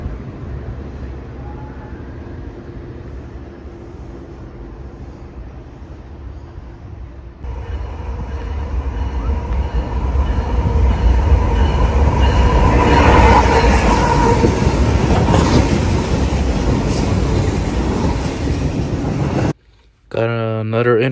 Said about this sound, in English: Got another intermodal train with 3 BNSF.